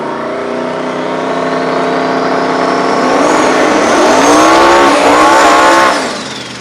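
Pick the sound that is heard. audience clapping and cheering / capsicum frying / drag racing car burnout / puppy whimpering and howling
drag racing car burnout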